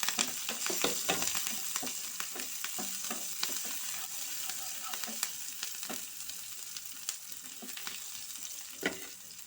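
Onion, garlic and green chilies fry in a pan with a steady sizzle, broken by repeated sharp scrapes and clatters of stirring, close and with no talk.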